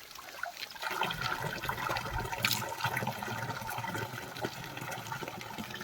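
A mountain stream of snowmelt on an Uttarakhand trek toward Ali and Bedni Bugyal rushes in a steady, broad wash of water, with no voices.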